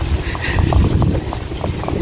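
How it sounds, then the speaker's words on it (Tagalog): Strong wind buffeting the microphone in a continuous low roar, with faint voices in the background. "Ayan, narinig nyo naman yung hangin, diba?"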